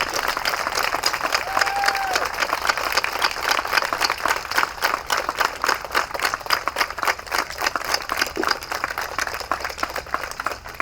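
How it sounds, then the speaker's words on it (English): Sustained applause for veterans from a large audience at a Veterans Day ceremony, steady clapping with some crowd noise, filling the whole stretch without pause. "let us have a round of applause for our veterans"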